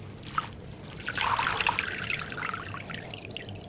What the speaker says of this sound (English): just rinse it a few times with clean water and it's good to go